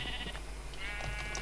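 A Minecraft sheep gives a short, faint bleat against quiet background hum.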